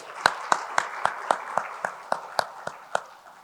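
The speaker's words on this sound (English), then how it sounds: "So can we have a big round of applause for them as well?" Clapping at a public talk in India: about a dozen sharp, evenly spaced claps in a slow, steady rhythm, fairly close and distinct rather than a blended wash.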